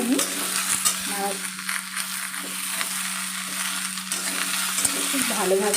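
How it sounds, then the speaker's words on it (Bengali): Pointed gourd, ridge gourd, teasel gourd, pumpkin and potato fry with a hilsa fish head in a pan, a steady close sizzle over a low hum, broken by light clinks and scrapes of stirring. "আমি এটা নাড়াচাড়া করে নেব। হালকা করে আমি ভেজে নেব 2-3 মিনিট ধরে।"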